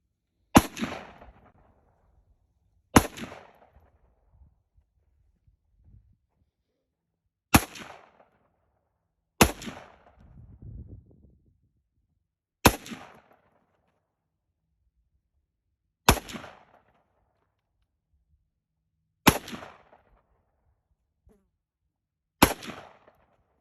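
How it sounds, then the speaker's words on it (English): Radical Firearms AR-15 rifle in 7.62x39 firing at an outdoor range 50 yards out, eight sharp single shots spaced a few seconds apart, each a loud crack with a short fading tail. "Out of 50 yards, 20 rounds. Radical Firearms AR-15 shoots"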